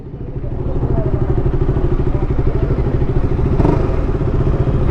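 A motorcycle engine idles steadily after being started following a long period unused, a close, loud, even putter with a brief rev near the end and no talking.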